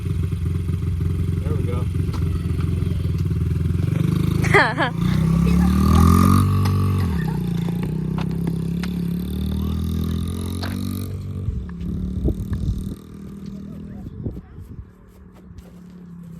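A Honda CRF50 dirt bike engine idles and revs nearby with a steady buzzing drone that rises and falls, along with some clatter, as someone speaks briefly.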